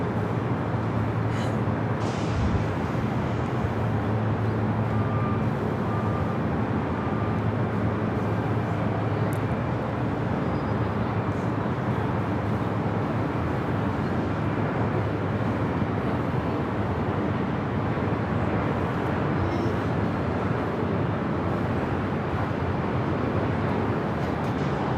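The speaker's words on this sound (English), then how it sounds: "Our next arrival is an E-Jet." Embraer E-Jet airliner arriving at Los Angeles International Airport, a steady broadband engine roar that holds loud and constant for the whole stretch, with some wind rumble and no talk over it.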